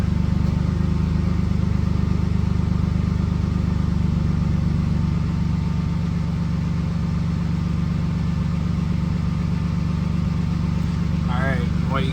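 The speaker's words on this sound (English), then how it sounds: "So I already have the engine running, and I'm going to start the test." A Jeep engine idles steadily during an EVAP leak test, giving a constant low rumbling drone that holds even throughout with no change in pace.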